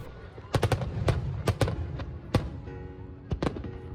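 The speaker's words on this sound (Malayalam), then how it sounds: "കൃത്യം ഒമ്പത് മണിക്ക് തന്നെ കറക്റ്റായിട്ട് വെടിക്കെട്ട് തുടങ്ങി" Eid fireworks bang in irregular bursts, sharp booms and crackling pops in quick clusters, some nearby and loud, with pauses between volleys.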